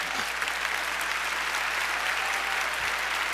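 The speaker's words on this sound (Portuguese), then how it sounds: "Pode aplaudir o Senhor." Steady, dense applause from a church congregation at a Sunday morning Baptist service, a continuous wash of clapping with no breaks, fairly loud throughout.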